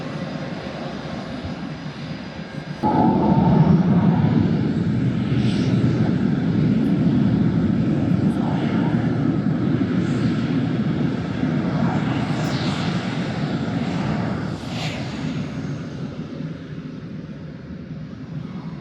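Plane taxiing at Topeka Regional Airport, its aircraft engine a loud steady drone that swells abruptly after a few seconds and holds, with faint voices under it.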